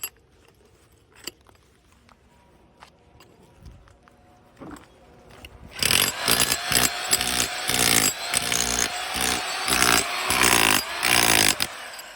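Worn rotary hammer, a Milwaukee 5300 or Skil 726, starts after some quiet clicks and then hammers loudly and rapidly in a continuous chipping rattle that lasts for several seconds.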